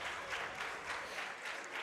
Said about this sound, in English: If you hear the clapping, it's the sound of my golf clap.